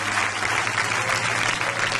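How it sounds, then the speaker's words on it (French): A church congregation bursts into dense, steady applause and cheering to the Lord, a loud, continuous wash of many hands clapping with no pauses over the short stretch. "Élevons des acclamations au Seigneur."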